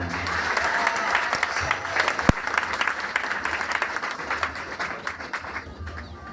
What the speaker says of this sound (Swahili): Pige makofi.